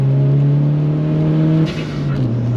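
An engine-swapped VW Caddy with a 310bhp TFSI engine and six-speed gearbox accelerating, a loud, steady, close engine drone that climbs in pitch, dips briefly as it shifts gear, and pulls again.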